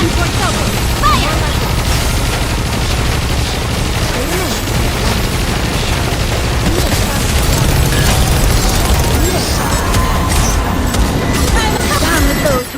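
Cannon fire from open gun ports in the Nikke video game, a dense, continuous barrage of booms and bursts layered over busy game music and voices for nearly thirteen seconds.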